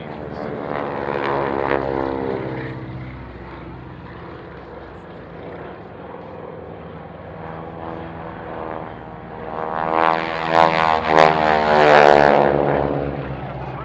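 Propeller biplanes flying an air show display at the Royal International Air Tattoo, with droning engine tones that stay steady before swelling louder and nearer toward the end.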